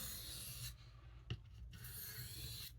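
A knife blade is drawn across a hard Arkansas sharpening stone in close, quiet rasping strokes, two longer scrapes separated by a short gap and a brief tap.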